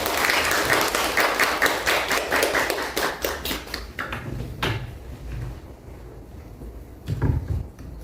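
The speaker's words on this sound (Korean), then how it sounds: "우리 선교사님 나오실 때 큰 박수로 환영했으면 좋겠습니다." A church congregation at a Sunday service claps to welcome a missionary to the front, a lively round of applause that thins out over about four seconds into scattered claps and a few bumps and footsteps.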